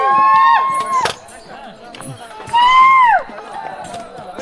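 Dharkari pilgrims' crowd on a fort trek, cheering as they near the village at the foot of Bhivgad: two loud, drawn-out shouted cries, one at the start and one in the middle, with scattered voices between.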